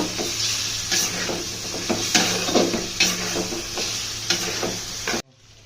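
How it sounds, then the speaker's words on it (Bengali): Chicken meat fries in a pan under a constant sizzle, with about five regular strokes of stirring and scraping before the sound cuts off abruptly. "মাংসগুলো দিয়ে ভালো করে কষিয়ে নিব।"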